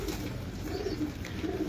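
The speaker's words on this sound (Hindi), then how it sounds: "ये हाई फ्लायर कबूतर है असील कबूतर है" High flyer Aseel pigeons in Lahore coo softly and continuously, a low, murmuring warble at close range with no voices over it.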